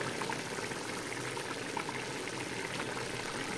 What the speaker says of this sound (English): My soup will be boiling for about 10 minutes now.